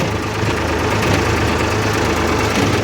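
A tractor engine chugs steadily at low RPM while pulling a load through a field with a plough, a loud, close, continuous low rumble with a faint knocking pulse and no pause across the whole stretch.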